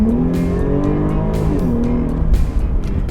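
A Jaguar XE-S with a supercharged 3-litre V6 drives close up and loud, its engine note climbing and falling through the gears with a strong, rich growl and brief surges of acceleration.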